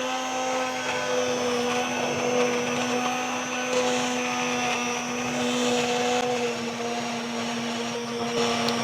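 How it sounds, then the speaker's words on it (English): A submersible immersion blender purees hot smoked Hatch chile and garlic soup, giving a loud, steady motor whine with a strong hum that runs without a break. "we're going to use our submersible blender, and we're just going to blend this until it's nice and smooth."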